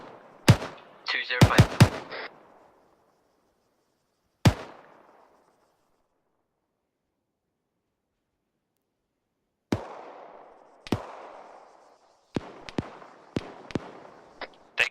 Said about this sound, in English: Taking sniper fire, Bravo.